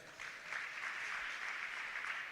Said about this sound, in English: Clap hands for that.